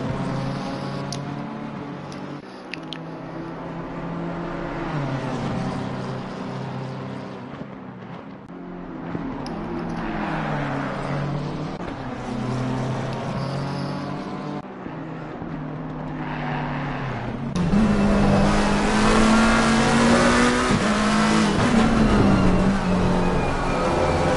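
Racing BMW engine in Assetto Corsa Competizione, a steady high-revving drone with rising and falling pitch through gear changes, growing louder and harsher in the final stretch as the car runs wide on a long circuit.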